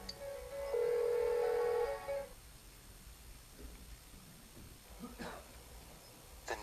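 A telephone rings on and on without being answered, a loud sustained electronic ring in the Persona 4 Golden game that cuts off after about two seconds, followed by quiet background ambience and faint soft sounds.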